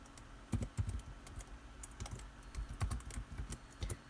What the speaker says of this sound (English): I'm just gonna put that in the chat right here